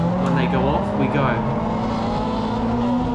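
A Mazda MX-5 race car engine revs high and holds steady at the start of a BRSCC MX5 SuperCup race at Anglesey, loud and close from inside the car, with other cars around it and a voice talking over it.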